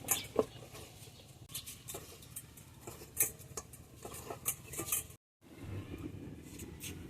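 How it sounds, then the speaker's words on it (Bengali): A knife cuts eggplants in a home kitchen, giving sporadic soft taps and scraping clicks at an irregular pace, with a brief silent gap near the end. "ছুরি দিয়ে সব বেগুনগুলো এভাবে কেটে নিয়েছি"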